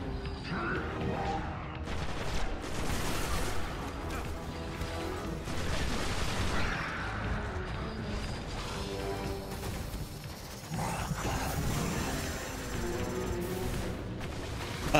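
Gunfire aimed at the player in the video game Destiny, The Taken King expansion: dense, continuous bursts of shooting and impacts mixed with game music and effects, steady and loud throughout.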